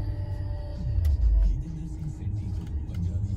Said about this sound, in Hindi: पर यहाँ पे इसका स्टार्ट स्टॉप बटन यहाँ पे मिल जाता है भाई, अभी स्टार्ट हो चुकी है।